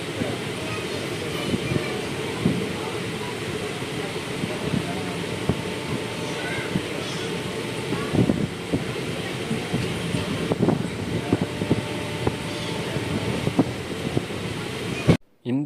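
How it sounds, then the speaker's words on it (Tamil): Low, steady rumble and rattle of a Nagercoil–Coimbatore unreserved express train idling while waiting for a signal at Irugur Junction, with faint wind noise and someone talking over it throughout. "இந்த வண்டி இப்போ வந்து பார்த்தீங்க அப்படின்னா சிக்னலுக்காக இங்கே இருகூர் ஜங்ஷனில் வெயிட் பண்ணிகிட்டு இருக்குங்க"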